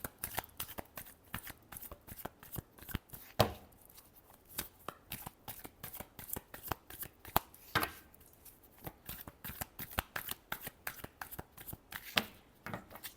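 Tarot cards being shuffled by hand, a quiet run of crisp riffling flutters and soft slaps repeating steadily in close succession, with no talk over them.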